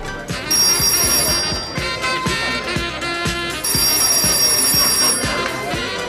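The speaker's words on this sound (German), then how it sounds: "Herr Blonski, Telefon." A telephone rings in a German crime drama, a repeated bright electronic bell that sounds continuously across the clip over a steady rhythmic background with a low thumping beat.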